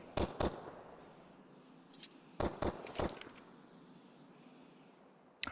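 Decoy grenade imitating gunfire in Counter-Strike during a pro match, a few sharp pairs of faint shots in quick succession over quiet game ambience.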